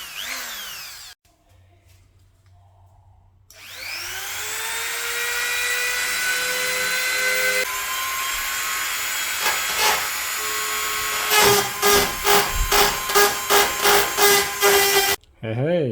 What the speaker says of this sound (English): this thing isn't coming off, so we're gonna have to get the Dremel out.